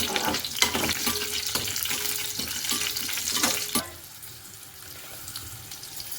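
Green chillies dropped into hot oil after spluttering mustard seeds sizzle and crackle with sharp pops and stirring clatter, then the frying settles to a softer hiss.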